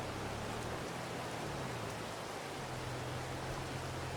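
Steady rain in the farming video game Farming Simulator 22, a constant even hiss of falling water with no talk over it.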